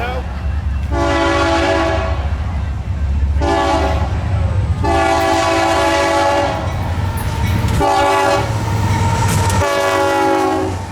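Northbound grain train hauled by modern diesel locomotives rolls past up close, with loud, repeated horn blasts over a steady roar of engines and rumbling cars.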